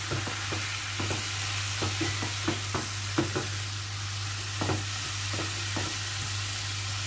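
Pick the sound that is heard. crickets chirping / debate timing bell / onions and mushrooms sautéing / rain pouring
onions and mushrooms sautéing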